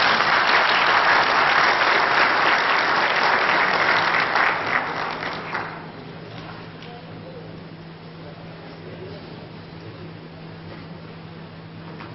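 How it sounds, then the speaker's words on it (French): Audience applause for three pétanque champions at a masters tournament in Madagascar, a dense, steady burst of clapping for about five seconds that then fades to a quiet room hum. "je vous demande un grand applaudissement pour ces 3 champions"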